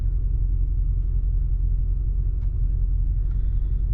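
A 1998 Chevy truck engine idles with a steady, loud low rumble heard from inside the cab, with a few faint clicks on top.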